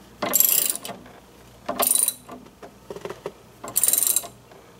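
Ratchet wrench clicking as bolts on polyurethane sway bar bushings of a DeLorean are tightened, three quick bursts of close, crisp ratcheting separated by short pauses, with lighter clicks between.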